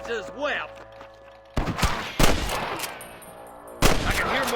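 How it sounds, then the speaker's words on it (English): Gunfire in Red Dead Redemption, with several sharp, loud shots spread across a few seconds over game sounds and ambient noise. "I can hear more gunshots."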